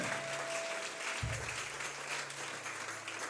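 A church congregation applauds in a dense, sustained wash of clapping that carries evenly from start to finish, with a faint tone running beneath it.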